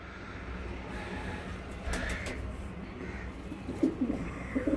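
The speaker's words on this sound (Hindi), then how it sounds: "ये डब वाली कबूतरी है ब्रीडर कबूतरी है" Kusri dab breeder pigeons coo softly and close by, their low repeated calls rising toward the end over steady background noise, with a brief knock or rattle midway.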